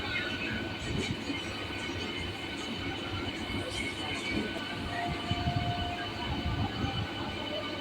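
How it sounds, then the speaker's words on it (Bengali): An express train rumbles past at a moderate distance near Howrah station, a steady rolling roar with a faint metallic whine and occasional murmuring voices in the background. "ওই যে এক্সপ্রেস ট্রেনটি যাচ্ছে ওই ট্রেনটি যাচ্ছে সাঁতরাগাছি স্টেশনের দিকে"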